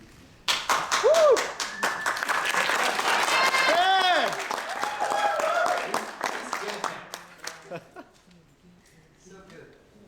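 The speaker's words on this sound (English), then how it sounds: "Get a clap going just for no reason." A press-conference crowd breaks into a burst of clapping and cheering that swells, holds for several seconds, then thins to scattered claps, with whoops and voices mixed in.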